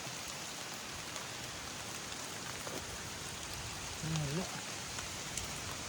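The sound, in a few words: rain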